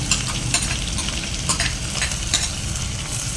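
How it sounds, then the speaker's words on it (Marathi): Four small onions tossed into a hot pan with cumin for misal hiss and sizzle loudly and continuously, with scraping stir strokes breaking through the frying noise. "हे चार कांदे मी टाकत आहे"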